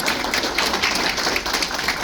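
Audience applause at a 40th anniversary gathering, a steady dense wash of clapping from a crowd that holds at an even level throughout with no breaks.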